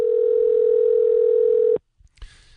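A steady telephone dial tone sounds loud and unbroken for nearly two seconds while a house is being phoned, then cuts off abruptly, followed by a few faint clicks and handling noises.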